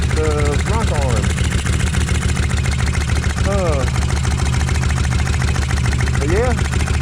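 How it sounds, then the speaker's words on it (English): A Kawasaki Vulcan 1600 motorcycle idles as it warms up, a loud, throbbing low rumble with audible lifter ticking and chirpy rising squeals heard three times. "now it's starting to warm up because the motor's not dying down so much"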